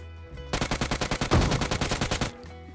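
A rapid burst of about fifteen video game gunshots fires in quick, even succession over roughly two seconds, loud and close, with quiet before and after.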